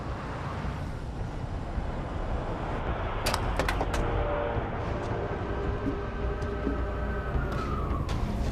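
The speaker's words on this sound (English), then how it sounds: "John, there's a police car behind us." A police car siren sounds behind a moving car, a steady wail over heavy road and engine rumble, with a few sharp knocks and thin tonal sweeps joining partway through.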